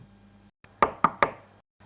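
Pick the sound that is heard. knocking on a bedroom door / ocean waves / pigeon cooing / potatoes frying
knocking on a bedroom door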